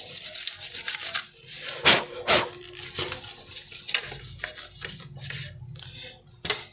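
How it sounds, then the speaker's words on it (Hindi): A cloth rubbing a part of a 12A toner cartridge clean, giving repeated scratchy wiping strokes in an uneven rhythm, close and fairly loud. "अब इसको क्लीन कर लेना है कपड़े से।"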